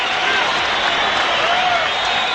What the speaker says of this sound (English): Oh, what an ovation.